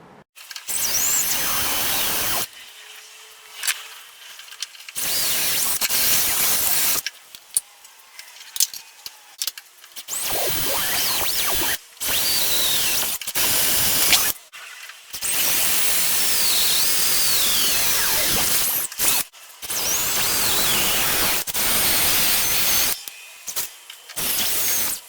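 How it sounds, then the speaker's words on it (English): A power drill boring holes through the hull of a flats skiff during a boat build whines loudly in repeated long bursts, broken by short silent pauses between holes. "we're going to re-drill"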